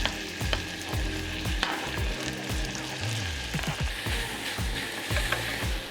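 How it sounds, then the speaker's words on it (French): Onions sizzle and fry in foamy butter in a saucepan, a steady close crackle with occasional stirring scrapes; no talk. "Une fois que le beurre est bien mousseux, on ajoute nos oignons."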